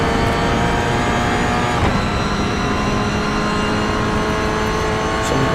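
Onboard a Toyota GR86 race car at Barber Motorsport Park, the engine drones loud and constant, with steady high revs and a brief dip around the middle as the car lifts and shifts.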